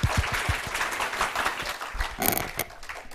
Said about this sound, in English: So let's applause to Aaron.